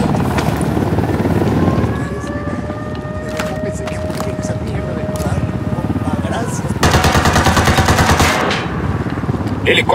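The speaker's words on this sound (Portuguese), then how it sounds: "Tem um helicóptero ao caminho." A helicopter's rotor drones loudly and continuously in Ghost Recon Wildlands, with bursts of machine-gun fire joining near the end and voices speaking over the din.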